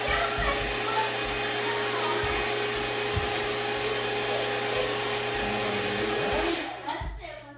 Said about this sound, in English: We're going to grind these mountain oysters and the fat once only.